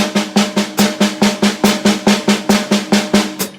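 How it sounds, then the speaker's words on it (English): Fast, even strokes on a hi-hat in a steady stream, with an accent falling regularly on each group of four, crisp and close with no voices. "I'm going to play 4 notes with my hi-hat as I always do,"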